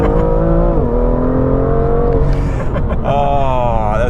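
A BMW M2 on E85 tune and Michelin Pilot Sport Cup 2 tyres launches hard with a bit of wheel spin, loud engine revving climbing through gears from inside the car.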